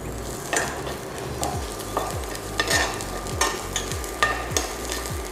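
Whole garlic cloves fry in a pan for homemade pesto, sizzling steadily with a utensil stirring and scraping in repeated strokes about every half second, close and fairly quiet.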